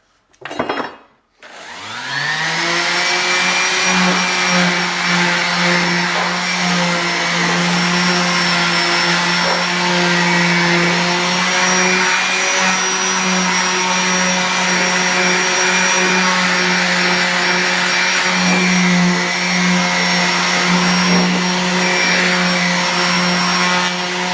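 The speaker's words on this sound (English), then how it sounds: "I might sand this just to make it a little easier to see while I'm drilling it" A power sander working a rear disc brake part for a 1966 Mustang, starting with a brief spin-up then running as a steady, loud whirring drone with a strong hum for over twenty seconds, no voices.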